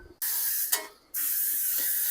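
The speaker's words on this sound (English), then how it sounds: "I like to use cooking spray for my baking, and it's just so much easier to spray the pans" Cooking spray hisses out of an aerosol can onto a loaf pan in two close, loud bursts, the first short and the second longer and steady, with no talking.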